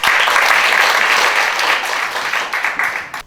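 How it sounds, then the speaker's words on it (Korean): Warm applause from an audience at a staff training session in Namhae, a steady dense clapping throughout that thins out toward the end. "뜨거운 박수 부탁드립니다."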